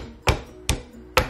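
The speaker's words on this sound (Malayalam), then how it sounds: "അപ്പൊ ചെറുതായിട്ട് ഒന്നിടിക്കുക" Three separate thuds as turkey berries (chundakka) are lightly pounded on a stone, evenly spaced, close and sharp, with quiet gaps between strikes and no voices.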